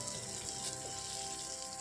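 Pork with bitter leaves fries in a pan, a close, continuous crackling sizzle with faint stirring and a small clink at the end.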